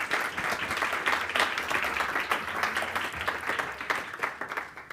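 Seminar audience applauding at the end of a talk: steady, fairly quiet clapping from a small room of listeners, continuous throughout with no speech on top.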